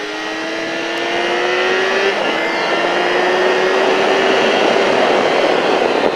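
A motorcycle circles the Alès race circuit during a track-day riding school session, its engine note droning steadily and loudly, with a rising whine that bends in pitch as it passes.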